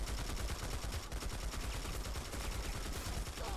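Burst-fire gunshots from Planetside 2 rattle in rapid, steady repetition throughout, sitting fairly far back and quiet in the mix.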